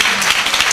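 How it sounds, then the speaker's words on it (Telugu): Congregation applauding at a church service, a dense steady patter of many hands clapping together, close and continuous throughout. "కొట్టాలి చప్పట్లు ఒకసారి."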